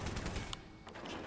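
Gunfire in the video game Rogue Warrior inside a dark room, a short burst of dense, loud shots filling the moment before trailing off.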